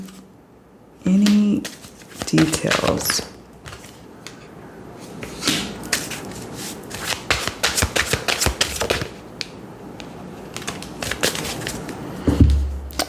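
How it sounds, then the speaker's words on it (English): Oracle cards are shuffled in quick bursts of riffling and tapping, with a person talking softly between and over the shuffles. "I'm just shuffling to see if there's any"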